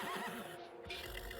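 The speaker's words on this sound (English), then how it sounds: "Horse makes a sad sound." A horse in a video game visual novel gives a sad whinny after running strangely, a wavering high neigh that breaks off briefly and resumes, with a faint clip-clop of hooves.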